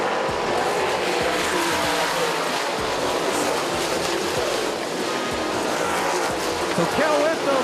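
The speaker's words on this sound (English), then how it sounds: "You see the dirt cars letting it all hang out." Dirt track race cars roar around Central Texas Speedway in a continuous, loud, dense wash of engine noise with occasional surges, and a commentator's voice runs faintly over it.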